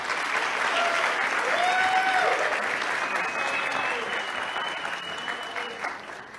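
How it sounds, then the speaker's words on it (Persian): A studio audience at a family game show claps steadily, a dense, sustained round of applause that fades slightly toward the end, with voices faintly mixed in. "خیلی تشویق میکنین."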